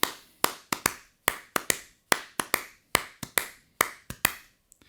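Crisp snare drum strikes in quick clustered three-stroke ruffs with a dotted, swung lilt, each burst a few rapid hits followed by a pause, close and dry.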